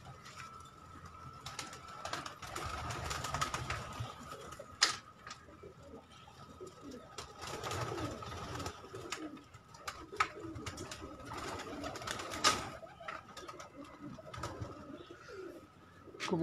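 Kept pigeons coo softly in a low, intermittent murmur, with occasional sharp clicks and taps nearby and a faint steady tone running underneath.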